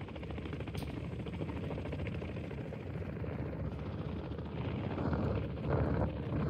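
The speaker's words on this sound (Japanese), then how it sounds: "ヘリうるせ" A loud helicopter in the DMZ video game gives off a continuous thudding rotor beat over a broad, rushing roar that swells slightly near the end. No voices are heard.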